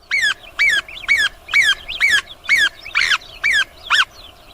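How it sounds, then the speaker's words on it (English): A small bird that lives alongside buffalo gives a loud, harsh, hissing alarm call, repeated about nine times in a steady rhythm, each note rising and falling sharply. "A single note breaks from the bird's throat, sharp and hissing, a sound the whole herd knows."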